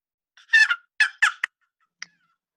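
A hand-held chicken clucker percussion instrument imitates a chicken with a few scratchy squawking clucks in uneven bursts, followed by a faint short final cluck, close and with no voice over it.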